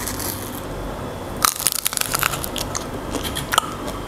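A crunchy wafer minicone snack bitten and chewed at close range, giving a burst of brittle cracks and crunches over a steady background hiss, then scattered smaller crunches.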